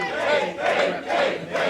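A concert crowd chants a name in rhythmic repeated bursts, about four loud pulses of massed voices in quick succession.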